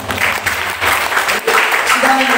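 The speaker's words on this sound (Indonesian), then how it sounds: "Mari kita berikan tepuk tangan." A church congregation claps at a sermon, the dense applause continuing steadily for a couple of seconds with faint tones and background voices mixed in.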